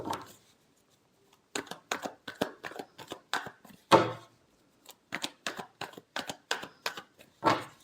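Tarot cards being shuffled by hand, a run of quick crisp riffling bursts and soft slaps in irregular rhythm with short pauses, close and clear with no talking.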